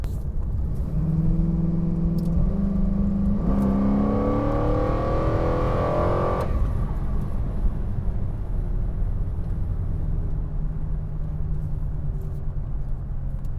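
A nitrous-injected Cadillac XLR with a Northstar V8 accelerates hard, its engine note rising steadily in pitch for several seconds before dropping back to a lower, steady cruising drone, heard loud from inside the car.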